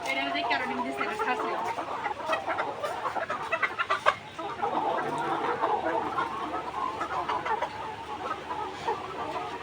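Chickens cluck and chatter steadily at close range in a hot poultry house on a 1,200-bird laying farm, a dense flock babble of overlapping calls with a voice speaking over it.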